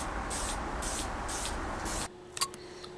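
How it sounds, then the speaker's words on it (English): Clear coat sprayed from an aerosol can onto a painted model, heard as several close, hissing bursts in a steady rhythm, then a stop followed by faint handling clicks. "I'm going to give it a clear coat."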